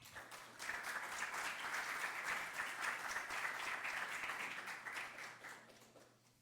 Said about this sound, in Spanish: les pido también que le demos un muy fuerte aplauso al profesor Curbelo